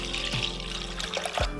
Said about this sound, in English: I got my pot right here, so let's start pouring that milk in.